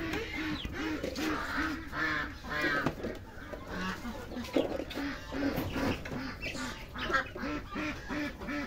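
Domestic chickens around a nesting box on a Vietnamese farm during egg collection, with repeated nasal clucks and honking calls close by, overlapping one another steadily throughout.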